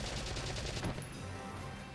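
Explosions and gunfire boom through a Valkyria Chronicles battle, a dense run of sharp bursts and crashes with a heavier blast near the middle, loud and continuous.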